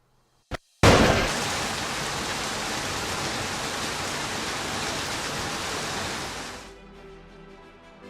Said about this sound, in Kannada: ವರುಣನ ಅಬ್ಬರ ಮುಂದುವರೆದಿದೆ